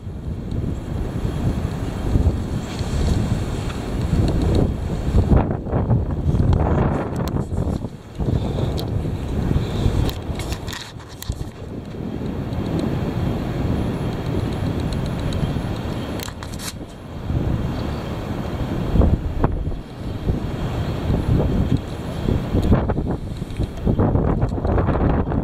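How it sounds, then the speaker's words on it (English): Heavy wind blows in continuous rushing gusts that buffet the microphone, loud and rumbling for a long stretch, with brief dips in force between the stronger surges. "There it is. The heavy wind."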